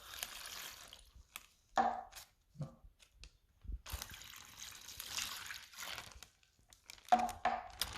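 Water poured into a plastic bag for a home activity, heard as soft trickles mixed with crinkling and rustling of the plastic as the bag is handled, faint and intermittent with quiet gaps.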